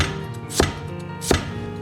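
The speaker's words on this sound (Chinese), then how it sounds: "先像这样斜刀切成薄薄的厚片" A knife cuts a peeled celtuce stem at a slant into thin slices, with two crisp, close chops on the board roughly a second apart and a light, faint background.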